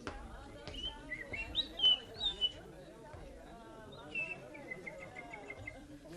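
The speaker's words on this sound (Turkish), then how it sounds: "Öttürme kuşunu hemşerim. Ötmez olsun." Small bird chirps and tweets in short bursts in a quiet room, fairly close, with soft voices murmuring underneath.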